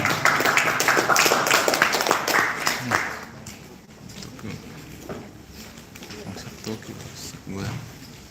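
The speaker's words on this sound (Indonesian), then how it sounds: "kita berikan aplaus buat pembicara pertama" An audience at a debate event applauds the first speaker, with a few seconds of loud clapping that fades as a voice starts talking and carries on over scattered background noise.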